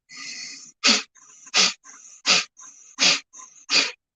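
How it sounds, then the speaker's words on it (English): Rapid forceful breath-of-fire exhalations pumped from the belly and diaphragm, five sharp bursts in a steady rhythm separated by softer inhales, close and alone. "Breath of fire."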